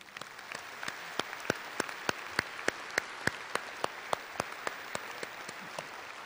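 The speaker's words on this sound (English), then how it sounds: "Please join me in giving them a much-deserved round of applause." Audience applause at a graduation ceremony in a large hall, a steady wash of many hands clapping with sharp individual claps standing out, sustained throughout at moderate level with no talking.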